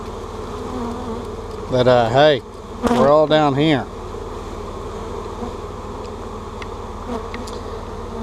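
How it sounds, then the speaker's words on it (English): Honey bees fan at a hot hive in a laying-worker colony, making a dense, continuous buzz close by, while someone speaks briefly in the middle over the droning. "there's a lot of fanning going on because they're hot"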